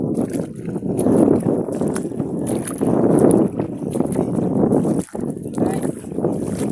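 A small boat moves along a river in fishing wetland country, with a steady broadband rumble and water wash, wind buffeting the microphone throughout and a brief dropout near the end.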